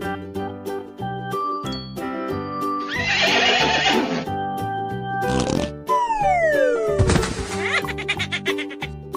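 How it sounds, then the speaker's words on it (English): Horse neighing in a children's farm animal guessing game, a loud whinny followed by another descending neigh and a snort, with music playing underneath. "Horse."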